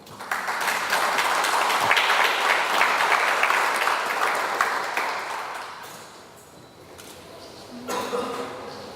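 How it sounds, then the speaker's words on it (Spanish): Warm audience applause welcoming an engineer to the stage at a conference on a railway megaproject, a dense crowd of clapping that swells, holds, then tapers off, with a faint voice and tone emerging as it dies down. "recibamos con un caluroso aplauso"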